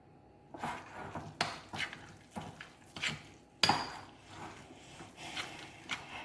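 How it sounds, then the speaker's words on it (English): Ground black pepper and pink Himalayan salt mixed into a sandwich filling of boiled eggs and mayonnaise, producing a series of irregular utensil clinks and scrapes against a bowl, close and fairly quiet, with no talk. "now I'm gonna add the ground black pepper and pink Himalayan salt. Okay, and mix again."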